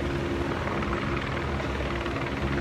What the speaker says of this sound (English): Bunch of choppers in the sky.